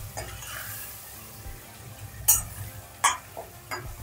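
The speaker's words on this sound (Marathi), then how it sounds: "कांदा असा छान लाल कलर येईपर्यंत चांगला परतून घ्यायचा आहे आपल्याला" Onion being fried in a pan for paneer butter masala, a steady soft sizzle under scattered sharp clinks of a utensil against the pan, no talking.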